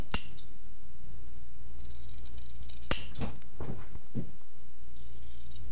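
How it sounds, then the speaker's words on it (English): Scissors snip through t-shirt fabric around the neckline, a few sharp isolated cuts and small clicks spaced across a quiet background, close and fairly clear, with no talking. "Begin with the neckline, just cut into the side of it, and then follow around it."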